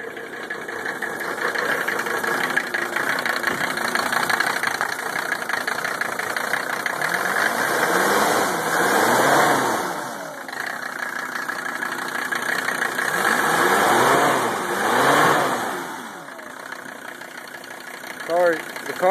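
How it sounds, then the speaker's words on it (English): An old car engine idles after sitting unused for months, fuel stale, with a steady mid-pitched hum and faint knock, while a person talks over it at intervals. "Idle's fairly smooth."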